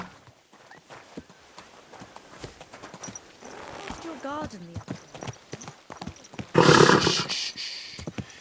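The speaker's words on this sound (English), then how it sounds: "Easy. Good horse." Horse hooves clip-clopping in Kingdom Come Deliverance 2, a steady close trot under game dialogue, with a short whinny partway through and a louder burst of hoof noise near the end.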